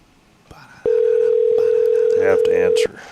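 A steady telephone tone on a call-in radio line sounds loud and continuous for about two seconds, with a brief click before it and faint background voices around it.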